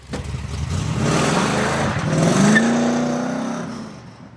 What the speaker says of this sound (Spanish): Un camión acelera por la calle principal y derriba el portón de ingreso.